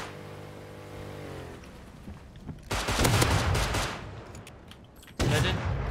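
Gunfire in the survival video game Rust, near a cargo ship and boat: a low hum, then a dense, loud burst of rapid shots lasting a few seconds and another sharp volley at the end.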